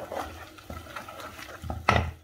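Cauliflower cheese sauce of olive oil, butter, onions, garlic and pepper is stirred in a pan, producing soft scraping strokes and a louder clink of utensil against the pan near the end.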